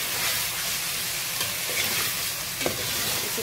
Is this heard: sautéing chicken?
yes